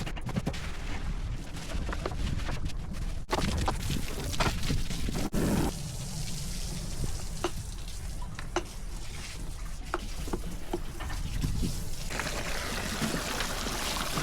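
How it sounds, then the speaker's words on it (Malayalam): A speedboat engine is washed down with sprayed water at the sea, giving a steady rushing hiss with splashing and intermittent sharp knocks, close by and moderately loud throughout. "എൻജിൻ്റെ മുകളിലൊക്കെ നന്നായിട്ട് വെള്ളം കൊണ്ട് സ്പ്രേ ചെയ്ത് കഴുകി"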